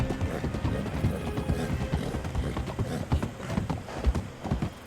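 Horse hooves clip-clop at a steady trot in the Red Dead Online video game, loud and continuous over a rumbling game soundscape, with an occasional whinny.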